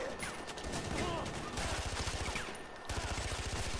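Rapid SMG bursts in Far Cry 4, a dense run of fast gunfire with short gaps between volleys, loud and close, with some faint background voice mixed in.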